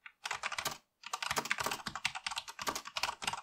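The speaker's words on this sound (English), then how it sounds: "I'm going to type something in here to make it distinct." A computer keyboard being typed on in two quick bursts separated by a short pause, the keystrokes close, crisp and fairly loud, filling the clip with no speech.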